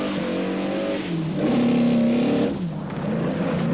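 A 1983 rally sprint car pulls onto tarmac from loose gravel, its engine rising through a loud, close revving climb with a brief dip between gear changes, sustained and dominant throughout.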